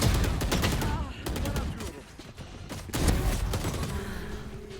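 Bursts of rapid gunfire in the Valorant shooter game, several sharp volleys in quick succession with brief pauses, loud and close, mixed with other game effects.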